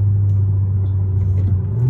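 A Kia K5 GT-Line fitted with a high-flow catalytic converter rumbles at idle up close, its deep steady exhaust drone loud and continuous with a slight rise in pitch at the end.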